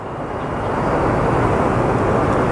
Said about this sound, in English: So we have our Contour Airlines Embraer that is going to be departing.